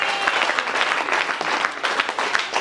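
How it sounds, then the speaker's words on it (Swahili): A church congregation at a gospel service claps hands together in dense, continuous applause. The clapping is lively and moderately close, with a faint voice underneath. "Piga makofi yapige mbinguni. Piga mikono yako vizuri."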